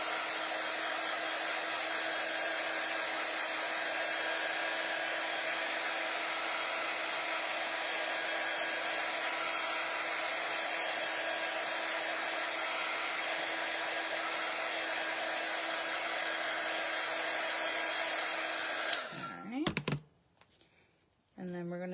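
A heat tool blows steadily and loudly for about nineteen seconds as it dries chalk paste on a craft project, a constant whooshing hum. It then cuts off, leaving a few clicks and handling sounds.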